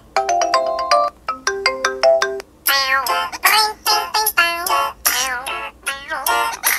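A LeTV Le1 Pro X800 phone ringtone plays loudly: first a simple beeping melody, then a bright, warbling synth tune repeating in quick phrases, with no talking.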